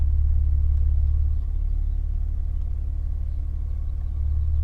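Maserati Ghibli engine and exhaust in sport mode, heard from inside the cabin as a steady deep low rumble that dips briefly in the middle and then swells back up, with no talking.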